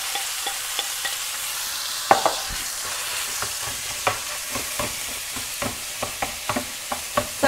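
Minced meat sizzles in a pan for Bolognese sauce, with repeated scraping and chopping taps at an irregular rhythm, close up, no voices.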